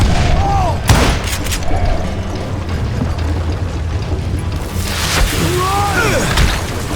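Deep booming blasts of dynamite going off in Call of Juarez: Gunslinger, a loud burst near the start and another around the end, with rumbling low thuds and scattered debris and gunfire-like cracks between them.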